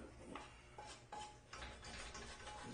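A utensil scrapes fried bits off the bottom of a frying pan after cooking ham fried rice, with several short, close scraping strokes and light metallic clinks, quiet and without talk.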